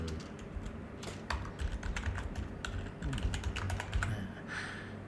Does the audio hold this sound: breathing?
no